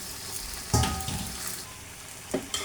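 Winter vegetables with beans and eggplant sautéing with chillies in oil give a steady sizzle, with a louder burst and spatula scrapes near the start and another stir toward the end.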